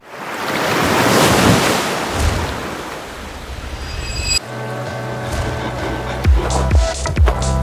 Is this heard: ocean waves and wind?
yes